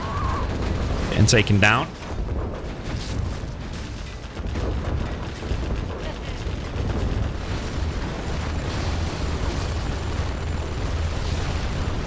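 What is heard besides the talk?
artillery strike explosions in C&C Generals Zero Hour video game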